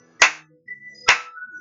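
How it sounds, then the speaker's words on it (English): Two crisp, close hand claps about a second apart in a children's sing-along, each sharp and loud, with soft sustained musical tones ringing between them. "clap your hands"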